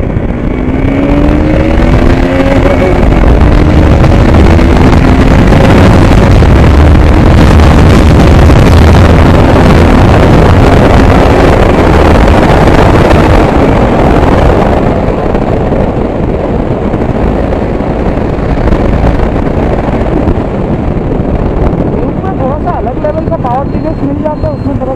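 KTM Duke 200 BS6 motorcycle (2022) being ridden, a loud continuous engine roar with strong wind buffeting that rises and falls through the run, briefly pitching up as it accelerates.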